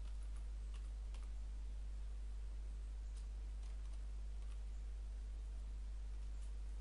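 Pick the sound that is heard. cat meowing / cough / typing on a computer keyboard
typing on a computer keyboard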